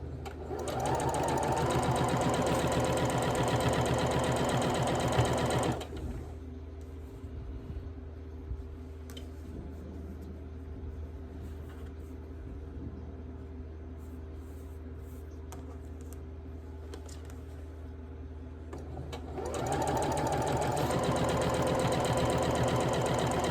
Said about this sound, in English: we are sewing again to the left and the right of the center